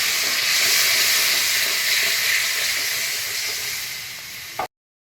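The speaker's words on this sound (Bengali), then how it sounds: "আর বাটিটা ধুয়ে একটু জলটা দিয়ে দিলাম" Water poured from a rinsed bowl into a hot pan of cumin and coriander powder for a potol curry, giving a loud, steady, close hiss that fades slightly before cutting off abruptly.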